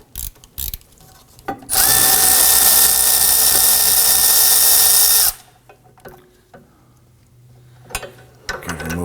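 A ratchet loosening a rear suspension bolt on a 2005-2009 Subaru Legacy during wheel bearing and hub replacement, a loud continuous whirring ratchet run of about four seconds preceded and followed by scattered metallic clicks and clanks.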